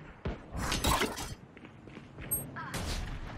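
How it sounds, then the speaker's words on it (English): A flashbang grenade detonates in Valorant with a sharp shattering burst, followed by thuds and scattered impacts and a second burst near the end, all close and loud. "Flashbang."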